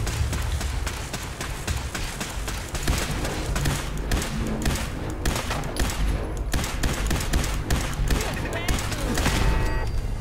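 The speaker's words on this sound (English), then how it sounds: "I assume they were both shooting at me." Dense, continuous gunfire from Fallout 4 combat, loud rapid bursts and repeated shots layered over game noise throughout, with thumps mixed in.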